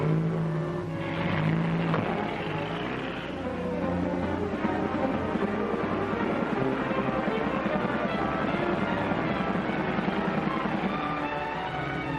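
A car drives along at steady speed as a vintage 1946 radio drama sound effect, its engine a continuous low droning hum with faint tonal whine, sustained and unbroken throughout.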